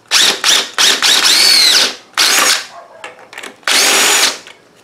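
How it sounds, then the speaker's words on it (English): An impact driver loosens 10 millimetre bolts on a GY6 scooter engine's intake manifold, loud close bursts of rapid hammering whine, several short runs separated by brief pauses. "So I'm just going to loosen those up with the rattle gun,"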